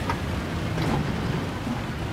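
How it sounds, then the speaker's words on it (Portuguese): Heavy rain during a Gran Turismo 7 race at Spa-Francorchamps, a steady dense hiss of downpour mixed with low engine rumble, constant and close throughout. "Tá chovendo pra caramba, velho."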